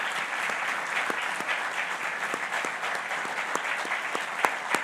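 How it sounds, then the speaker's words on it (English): An audience at a university building dedication applauds steadily, with dense continuous clapping and a few sharper individual claps standing out, and no talking over it. "Another round of applause for Mr. Ed Fitz."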